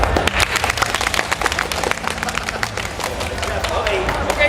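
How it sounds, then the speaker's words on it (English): A live audience claps rhythmically together in a VOCALOID clap at a cosplay event, a dense run of sharp, evenly spaced hand claps mixed with crowd noise and voices. "how about a VOCALOID clap?"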